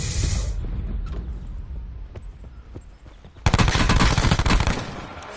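Bursts of rapid gunfire from a solo battle royale video game, several distinct shots early then a loud sustained volley in the second half, close and dominant over quiet game ambience.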